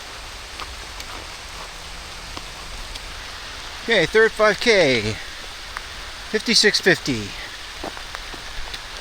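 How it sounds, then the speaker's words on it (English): Light rain from a thunderstorm patters steadily on a long-distance hiking trail, a soft even hiss. Someone speaks briefly twice over it. "It has started to rain, a little bit of a thunderstorm, but it's not like soaking rain yet."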